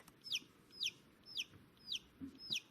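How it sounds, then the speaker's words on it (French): Newly hatched chick cheeping in a steady series of five thin, high, downward-sliding peeps at regular intervals, close but faint, over a low background hum. "Bravo, petit poussin, tu as réussi à sortir."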